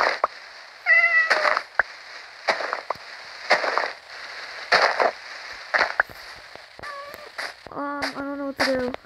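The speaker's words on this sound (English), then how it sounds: "Why is there still cats here?" Several cats meow repeatedly, with short cries and some longer drawn-out tonal yowls coming one after another at uneven intervals. Sharp cracking bangs like fireworks or firecrackers break in between the calls.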